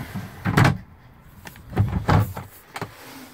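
Drawers being pulled open in the cab of a 2015 Kenworth W900 truck: a few close, short sliding knocks and bumps, separated by brief pauses, with no talking.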